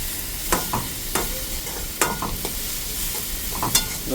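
Food being stirred and sautéed in a pan at an outdoor lorry-stop cooking spot, with a steady sizzle broken by repeated scraping stir strokes, close and fairly loud, no talking.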